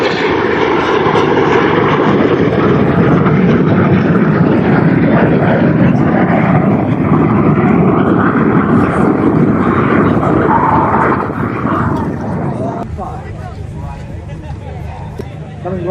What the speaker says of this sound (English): the following pilots now use a lot of rudder to swing the jets out like a pendulum